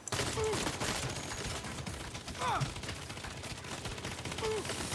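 Continuous gunfire shooting at an enemy's power pack in Saints Row, a steady dense rattle throughout, with brief voices and game sounds mixed in.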